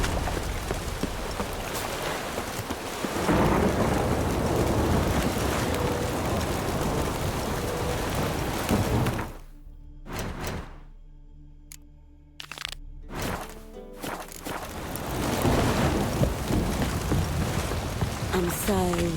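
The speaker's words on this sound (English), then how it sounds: "A storm, damn it." Heavy rain from a thunderstorm in The Witcher 3: Wild Hunt roars steadily, broken midway by a few seconds of near silence with scattered thuds before the downpour resumes.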